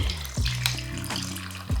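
Liquid pouring into a glass of ice, likely for a coffee drink with chocolate cold foam, heard as a short steady splashing trickle up close with no one speaking.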